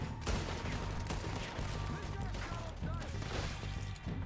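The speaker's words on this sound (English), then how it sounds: "You just got shot." Gunfire from a Red Dead Redemption 2 shootout, with dense rapid shots crackling over a loud, busy game soundscape while players talk excitedly throughout.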